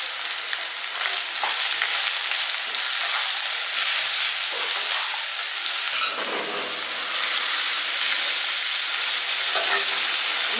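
Turmeric, coriander and chili powder fry in hot oil with ginger paste in a pan, a loud continuous sizzle with occasional stirring scrapes and a brief dip before the crackle swells again.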